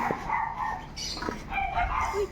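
A friendly neighbourhood dog in Lagro, Quezon City gives a few short, sharp barks and yips at close range, with outdoor background noise between them.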